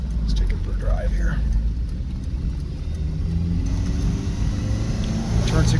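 Lancia Fulvia pulling away on a road drive, a low steady engine rumble heard from inside the car with a voice talking over it.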